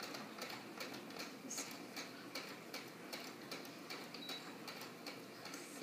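A sewing machine stitching the elastic waistband of a skirt, running steadily with a fast, even ticking rhythm of needle strokes under a constant mechanical whir, close by and moderately loud.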